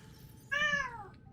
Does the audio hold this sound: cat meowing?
yes